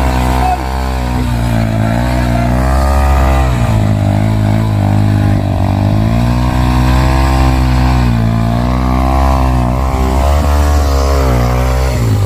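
A motorcycle engine drones loudly and close while riding a mountain road in Benguet, a steady rumble with its pitch gently rising and falling as it changes speed, and no talk over it.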